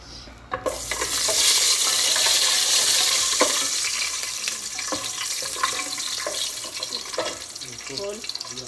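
Kabsa rice ingredients being stirred and mixed in a cooking pot, with a steady scraping, sizzling wash of sound and sharper clacks of the utensil against the pot, close up throughout.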